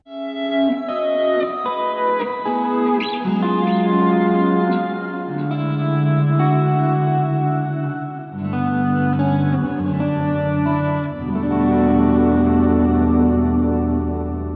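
Electric guitar plays sustained chords and notes washed in shimmering chorus and lush reverb, each change ringing out smoothly with no talking.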